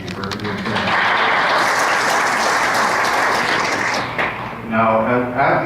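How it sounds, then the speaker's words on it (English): Audience applause at a county electric cooperative candidate forum, honoring the timekeeper: a dense, steady clapping burst lasting several seconds, then fading as a voice starts speaking near the end. "Let's have a round of applause for the timekeeper."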